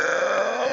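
A single deep, raspy burp of under a second, close and loud, rumbling steadily before cutting off.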